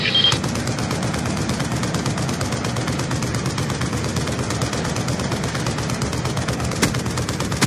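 Sustained rapid heavy gunfire from a VTOL warship in the Black Ops 2 video game, a dense continuous barrage of automatic fire filling the whole stretch, loud and close with no talk.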